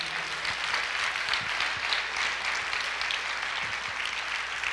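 A church congregation applauds together, dense and continuous clapping that fills the room at a moderate distance with no pause.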